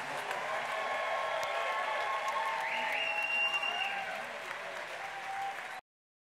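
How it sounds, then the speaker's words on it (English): An audience at a music event applauds with dense, sustained clapping that thins slightly near the end before stopping abruptly. "How about another round of applause for Mr. Mitch Glickman?"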